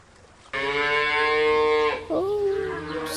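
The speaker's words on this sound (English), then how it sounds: "Oh, so many cows. Oh, cows are grazing." A grazing cow lets out a long, loud, close moo, pauses briefly, then follows with a second lowing call that dips and trails off, over a quiet outdoor background.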